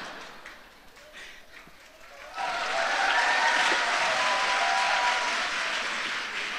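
A church congregation at a Vietnamese gift conference bursts into applause after a quieter stretch with a voice, the clapping swelling suddenly and staying loud and sustained to the end.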